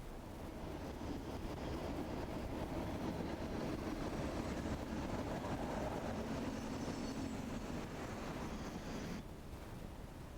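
Class 37 diesel locomotive 37401 Mary Queen of Scots arrives at Fort William hauling an overnight sleeper train, a continuous rumble and rolling rail noise heard faintly from a distance, with some wind buffeting.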